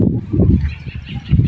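Bird calls from a bird around a home in hot weather, a few loud, close honking squawks in short bursts with brief pauses between them, heard alone without speech.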